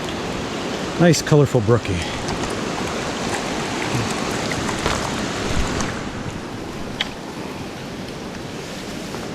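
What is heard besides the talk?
rain falling on a mountain stream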